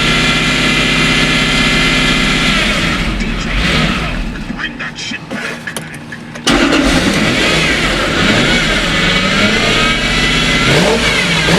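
Engine of a Lexus SC400 drift car running loud and close, with a rough idle, a stumble where it nearly dies, then a catch and revving back up; voices talk over parts.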